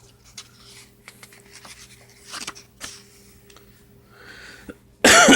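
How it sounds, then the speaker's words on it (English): One sudden, loud, close cough from a person breaks in at the very end, after a stretch of faint rustling and scratching. "I just hope this cough goes away soon."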